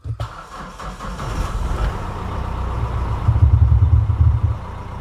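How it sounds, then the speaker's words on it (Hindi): A Mahindra Bolero, restarted after sitting unused for ten days, cranks briefly and catches, then settles into a steady, close diesel-like idle that grows slightly louder and rougher toward the end, with no talking. "अभी देखिए मैं गाड़ी स्टार्ट करके दिखाता हूँ"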